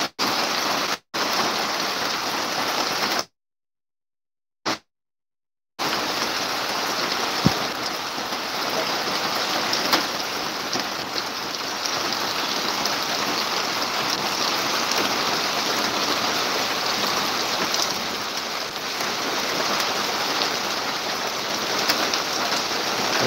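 Heavy monsoon rain pours steadily in Dodamarg in the Konkan, a dense continuous hiss on surfaces with one brief dropout near the start.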